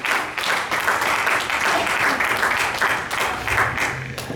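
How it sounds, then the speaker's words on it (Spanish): Church congregation applauding during a Spanish-language service, a lively burst of many hands clapping with uneven rhythmic pulses throughout. "Den un aplauso a Cristo Jesús con todo el corazón."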